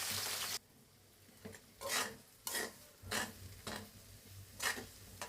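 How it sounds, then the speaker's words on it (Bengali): Sliced onions frying slowly in hot oil for browned crisp onions, an initial loud sizzle followed by about six rhythmic scraping stirs of a spatula in the pan. "আমি আস্তে আস্তে 5 মিনিট পেঁয়াজটা ভেজে বেরেস্তা বানাবো"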